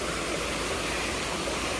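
River water rushing at a shallow stream crossing on Jeju's Olle Trail, a loud steady broadband wash with no pauses.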